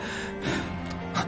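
A loud, sharp gasp on waking abruptly from a dream, a quick intake of breath followed by a second shorter gasp, close and clear against a faint background.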